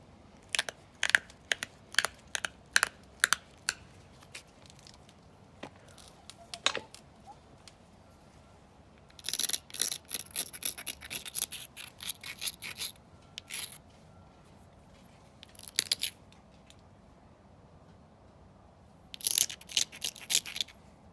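A stone edge is worked with a hammerstone or punch flake, giving bursts of sharp scraping and crunching taps, close and crisp, separated by quiet pauses.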